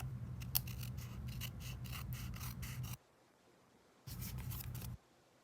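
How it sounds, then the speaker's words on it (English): Scissors trim and round the corners of a paper card, making quick, close snipping and rubbing strokes in two bursts separated by a short pause. "all I have to do is round the corners and trim it just a tad"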